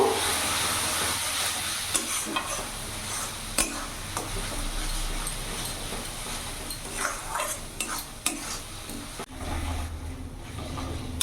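Ground coriander and chilli powder sizzle in hot oil in a pan for mutton curry, a constant frying hiss broken by regular scraping knocks of a spoon stirring them, close and continuous.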